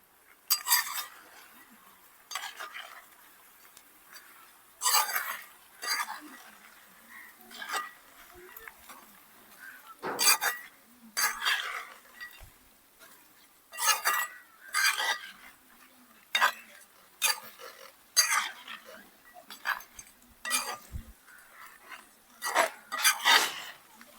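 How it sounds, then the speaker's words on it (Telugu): Metal spoon scraping and clinking against a pot as masala powder, chili and salt are stirred into chicken pieces in oil for chicken pickle, in repeated short bursts of close scraping with quiet gaps. "మసాలా పొడి ముక్కలకి నూనెలో బాగా కలిసేలాగా కలుపుతున్నా"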